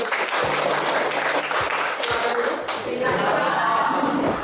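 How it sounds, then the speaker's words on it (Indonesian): Students clap together in a classroom, a loud, dense burst of hand claps with a few sharp individual strikes standing out, holding steady for several seconds. "tepuk tangan dulu"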